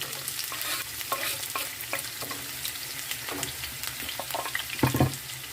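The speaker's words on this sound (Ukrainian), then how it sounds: "олія розігрілась і ми висипаємо сюди цибульку" Chopped onion sizzles and crackles in heated oil while a utensil stirs and scrapes the pan, with a louder burst of clatter near the end; nobody speaks.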